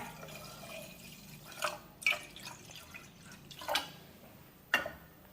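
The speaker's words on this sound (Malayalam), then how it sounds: "ഇതിലേക്ക് രസത്തിന് ആവശ്യമായ വെള്ളം ചേർത്ത് കൊടുക്കാം." Water for ghee rasam is added to a cooking pot in four separate short pours or splashes, each a brief, fairly loud slosh spaced a second or so apart over a quiet kitchen background.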